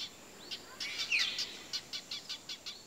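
Forest land birds singing on Príncipe island: a series of short, bright repeated chirps in a regular rhythm, fairly close, over quiet forest ambience with no talk.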